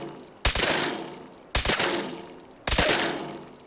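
Paint gun traps firing in Fallout 4, three separate loud, close blasts evenly spaced about a second apart, each dying away in a decaying rumble.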